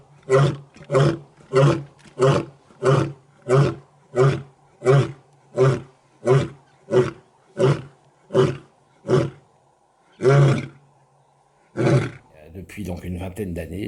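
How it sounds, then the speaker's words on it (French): A lion in Kruger National Park roars to mark its territory, a loud, close series of about fifteen deep, evenly spaced roars, each lasting under a second, followed by longer pauses and a final roar, with some rustling at the end. "il préfère marquer son territoire en vocalisant, avec ici plus de 36 rugissements"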